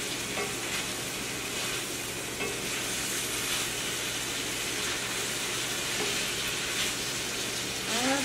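Lumpia filling sizzles and fries in a pan, a steady loud hiss throughout with occasional soft stirring scrapes and no talk.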